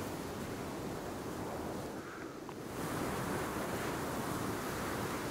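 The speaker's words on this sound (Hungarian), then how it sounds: "Szelet hallod csak. Csak a szél, ja." Steady wind blows through the Sons Of The Forest video game, a broad continuous rushing gust that eases briefly in the middle and then swells again, with no talk.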